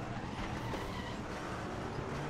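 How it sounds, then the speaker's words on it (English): Tyres of a Saleen S7R squeal steadily through a corner at Sepang in RaceRoom, a continuous close scrubbing screech over the engine's drone. "Tyre squealing"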